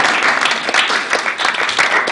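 An audience at a talk on migraine claps for the technician, a fairly loud, dense round of many hands with slightly uneven surges.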